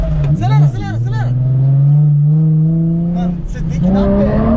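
A Nissan 350Z engine revs and climbs steadily in pitch as it accelerates, loud and close. Excited voices talk over it at the start and the end.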